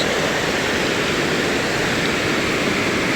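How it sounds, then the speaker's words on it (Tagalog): Loud rushing water pours through a mini dam at a tourist spot near a restaurant. A dense, constant roar of broadband noise fills the scene close by, with no breaks and no talking. "Malakas ng tunog oh. Lakas ng tunog ng Agos."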